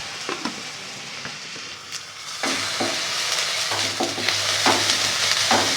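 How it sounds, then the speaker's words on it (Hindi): Onions and ginger garlic paste sizzle and fry in a pan for a few seconds, with scattered clicks and scrapes of a spoon stirring over the steady hiss, no voices. "इसको भी हल्के से फ्राई कर लेना है बस।"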